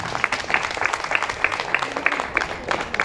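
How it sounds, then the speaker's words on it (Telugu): An audience at a talk claps in a steady, dense patter at moderate volume, with a faint rhythmic tapping running through it and no clear speech. "ఒక్కసారి క్లాప్స్ చేయండి మీకు"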